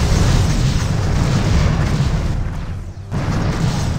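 Torpedoes firing and exploding aboard a starship in the Star Trek Bridge Commander video game, a loud, sustained rumbling boom with a brief dip near the end before the blast swells again.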